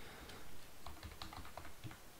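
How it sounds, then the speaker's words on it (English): Quiet, close typing on a computer keyboard while coding, with uneven bursts of light key clicks and no voices. "now I'm typing Russian letters"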